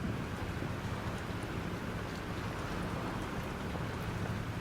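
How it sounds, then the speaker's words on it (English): Heavy storm rain and wind roar through the video game Life is Strange, a dense, loud, unbroken wash of downpour with a low rumbling undertone and no voices. "This storm's real."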